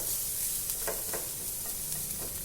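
Ginger-garlic paste and onions sautéing in a pan for a cabbage frankie filling, giving off a steady close hiss with a few soft stirring scrapes.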